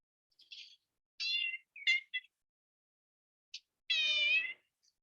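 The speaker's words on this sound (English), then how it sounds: "Contractually obligated cat appearance." A cat meowing indoors: several short, high mews, some chirp-like, spread irregularly over a few seconds. The last call is longer and drawn out. All are fairly quiet, close and alone with no talk.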